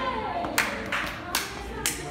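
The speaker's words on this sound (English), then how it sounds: "what is this rhythm you're clapping?" Sharp hand claps land in a loose rhythm, roughly four distinct claps spread across two seconds, standing out over a low background of chatter and music.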